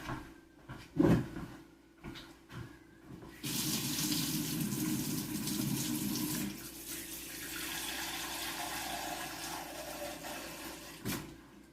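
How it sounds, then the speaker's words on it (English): Cold water runs steadily from a tap over freshly churned homemade butter in a kitchen, a loud continuous splash lasting several seconds after a few clunks, then settling to a softer flow. "So I'm going to take some cold water."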